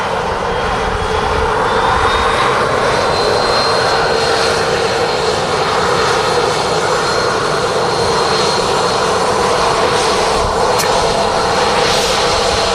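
A jet airliner in a retro Q8 livery at Manchester Airport gives a steady, loud engine roar that holds through the clip, with no talk over it.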